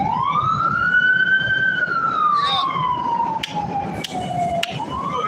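An emergency siren wails loud and close on a Chicago street corner, one long rising and falling tone sustained throughout, with a few sharp clicks near the end.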